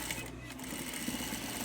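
A sewing machine runs steadily up close, stitching matched fabric pieces along a set guide with a continuous hum and fast needle chatter.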